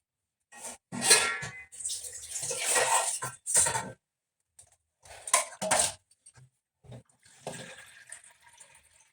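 Water poured from a cup into a pot of rice in a home kitchen, several bursts of splashing pouring separated by short pauses, close and fairly loud with no talking.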